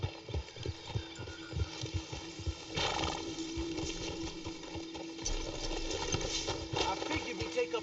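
Horse hooves clip-clop in a steady walking rhythm in Red Dead Redemption 2 over a low background hum, fairly quiet throughout.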